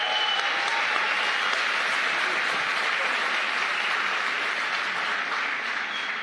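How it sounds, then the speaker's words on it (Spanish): An audience at a 2019 book fair panel on punk history claps for the writer David Keenan, a steady wash of many hands at moderate loudness, unbroken by speech, that holds for several seconds before thinning slightly. "David Keenan, un aplauso por favor."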